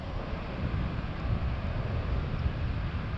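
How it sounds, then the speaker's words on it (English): Strong, steady wind by the sea roars and buffets the microphone, a dense low rumble with no pauses and no voices. "It's too windy."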